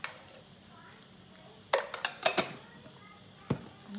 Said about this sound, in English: Mix it in the oil.